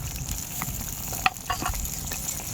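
Egg curry with garam masala simmers in a pan, giving a steady close bubbling sizzle with a few soft clicks and stirs, and no voices.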